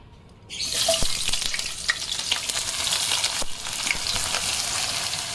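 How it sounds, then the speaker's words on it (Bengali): Onions tipped into a pan of hot oil erupt into a loud, crackling sizzle after a brief quiet start. The frying continues in a dense, hissing wash with occasional pops and stirring scrapes. "এবার পেঁয়াজটা ঢেলে দেব।"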